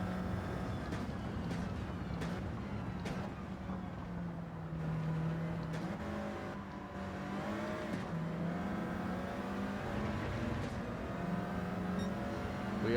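Race car engines from Gran Turismo 7, including a Mercedes-AMG GT Black Series, drone continuously with rising and falling revs and gear changes, a loud sustained roar throughout.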